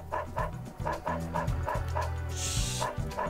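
A dog in the video game Dog's Life barks in a steady, rhythmic series of about eight short barks, mixed with yips and whimpers, at moderate volume and slightly distant.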